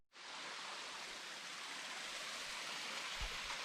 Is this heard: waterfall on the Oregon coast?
yes